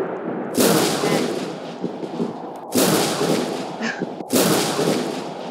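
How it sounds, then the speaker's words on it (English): Rolling thunder from a thunderstorm in the Roblox game Natural Disaster Survival, three loud, long booming rumbles that fill the space one after another, with a brief spoken word between them. "Thunderstorm."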